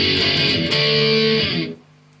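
Electric guitar strums sustained outro chords from a song, ringing loud and bright for about a second and a half before being cut short, leaving a faint decaying hum.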